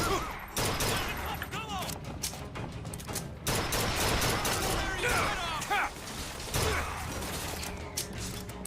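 Video game gunfire rattles in quick bursts amid mechanical clanks and busy game effects, fairly dense and steady, with a player's voice occasionally talking over it.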